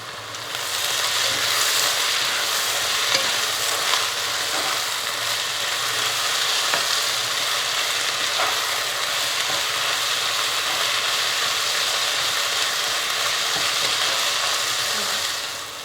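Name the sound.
onions frying with mint and coriander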